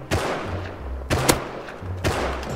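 Gunfire in the survival video game Rust: three sharp bursts of shots about a second apart, loud and close, each trailing into a short echo over a low background hum.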